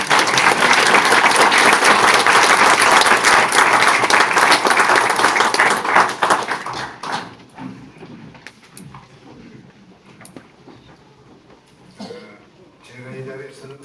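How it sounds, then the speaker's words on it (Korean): An audience at a lecture event breaks into loud, sustained applause that welcomes a speaker, then fades into scattered claps and shuffling before a voice starts talking. "그럼 한한상 박사님 나오실 때 큰 박수로 환영해 주시기 바랍니다."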